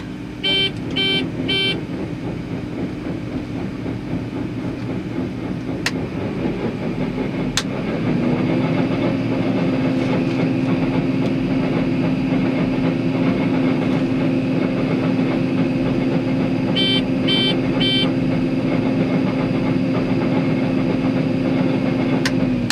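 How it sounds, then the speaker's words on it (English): A farm unloading auger runs as a steady, loud mechanical drone that swells and settles into an even hum partway through, with short bursts of rapid beeping near the start and again later. "Unloading auger."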